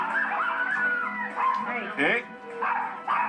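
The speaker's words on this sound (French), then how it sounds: "Ils aboient encore un peu quand on sonne à la porte." Maltese dogs barking and yipping repeatedly in a home, with sharp overlapping barks and whimpers close by; a person speaks briefly over the noise.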